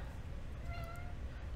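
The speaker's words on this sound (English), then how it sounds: "you can hear my cat meowing." A single cat meow rises and falls briefly, close by, over a low background rumble.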